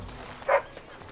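A puppy in the fantasy role-playing game Dragon Age: Origins gives a single short, bright bark over quiet background.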